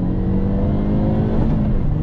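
2022 Hyundai Elantra N engine pulls hard under throttle with a loud, steady, droning growl from inside the cabin, a short continuous burst of acceleration with no talking.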